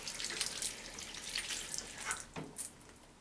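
Tap water runs into a sink while hands are rinsed clean of soap suds, a soft steady splashing stream with a few brighter splatters and drips, fairly quiet and close, without any talking.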